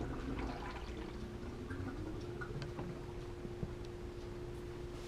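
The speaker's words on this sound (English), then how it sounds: "You can hear the tank gurgling as the air comes out the output as water fills the filter and displaces it" A Fluval 206 aquarium canister filter gurgles as it fills with water and air is pushed out of the output, giving a faint continuous bubbling and trickling with a few soft knocks.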